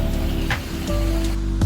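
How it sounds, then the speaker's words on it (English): Steady rain falling on a Swiss town in the evening, a continuous hiss and patter close by with a low rumbling background and no voices. "though the rain was still coming down"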